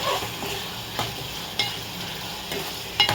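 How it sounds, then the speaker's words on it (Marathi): Chicken masala with ground coconut paste sautéed in oil for a spicy chicken curry, a steady sizzle broken by sharp scrapes and clinks of a spoon against the pan about once a second, close and fairly loud. "तेल सुटेपर्यंत ह्याला आपण परतून घ्यायचं आहे छान तेल सुटेपर्यंत भाजून घ्यायचं"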